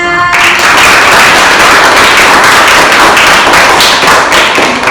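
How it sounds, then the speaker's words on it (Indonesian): A classroom of students bursts into loud, dense applause for a group called up to present, close and sustained with sharp overlapping claps after a brief tonal sound at the very start. "Tepuk tangan."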